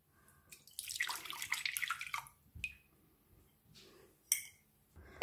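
Lukewarm milk poured for a brioche starter: a short liquid splash and trickle near the start, then quiet with a few soft clinks and drips, all faint and close.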